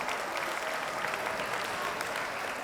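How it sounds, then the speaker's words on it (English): Students at a youth conference on hydroponics applaud themselves, with a steady wash of dense clapping from a large group, heard at a fairly faint distance throughout. "So why don't you give yourselves a round of applause for showing up"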